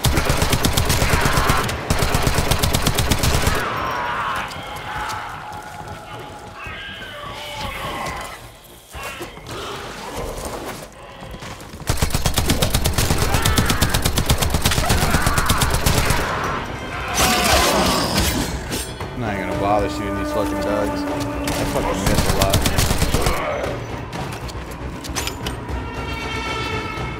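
Rapid gunfire from a weapon in the video game Warframe, loud bursts of automatic shots with crashes and mechanical game effects, broken by a few brief pauses.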